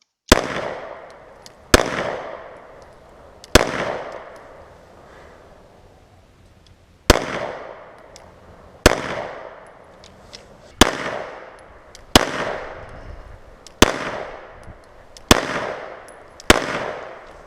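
Taurus PT111 G2 pistol firing low-recoil DRT 85 grain rounds at close range: ten sharp reports, each followed by a short decaying ring, spaced roughly one to two seconds apart, loud and alone with no talk.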